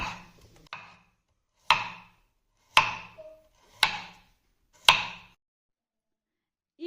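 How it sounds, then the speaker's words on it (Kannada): Peeled radish being cut into round slices with a knife on a board: five sharp, evenly spaced chops, each crisp thwack ringing briefly before silence, close and fairly loud with no talking. "ಇದನ್ನು ಸಿಪ್ಪೆ ಎಲ್ಲ ತೆಗೆದು ರೌಂಡಾಗಿ ನಾನು ಕಟ್ ಮಾಡ್ಕೊಳ್ತಾ ಇದ್ದೀನಿ"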